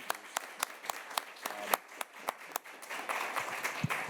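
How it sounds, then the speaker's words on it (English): A small symposium audience applauds two speakers with sparse, distinct claps that quicken and thicken into light, quiet applause toward the end. "Let me invite another round of applause for our 2 excellent speakers."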